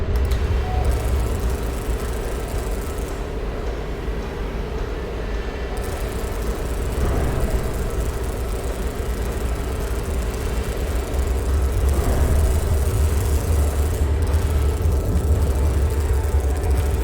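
Braking thrusters on a spaceship in the game Delta V: Rings of Saturn give a loud, steady, rumbling roar that holds for the whole stretch and swells slightly about midway, with no talking.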